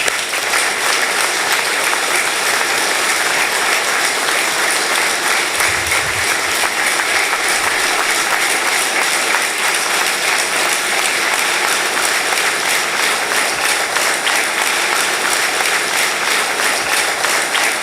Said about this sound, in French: que nous puissions nous lever et que nous puissions applaudir ce grand homme, Henri Konan Bédié